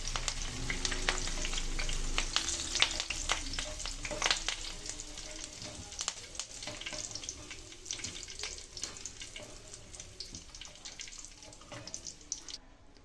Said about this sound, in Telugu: లాస్ట్లో కొంచెం కరివేపాకు వేసి డీప్ ఫ్రై చేసుకోవాలండి